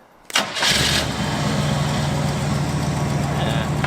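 A big-block GMC truck, just pulled from a shed, cranks for a split second, then fires and catches. It settles into a steady, close, rumbling idle that carries on without a break.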